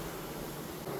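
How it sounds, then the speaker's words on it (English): Honey bees buzzing on a hive frame during beehive maintenance, a close, steady, dense hum of many bees with no talking. "Oh, there's bees on it."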